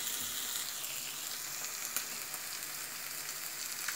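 A grated potato, sweet potato and bacon omelette, just turned, sizzles and crackles steadily in the pan, a continuous close, quiet frying hiss with small pops.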